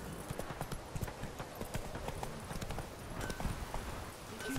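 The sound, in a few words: horse galloping in a video game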